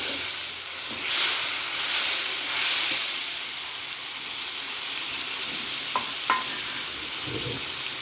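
Onion frying in a pan with mustard paste, chilli and coriander gives a steady close sizzle and hiss, with soft stirring swishes and a couple of light clicks of a utensil.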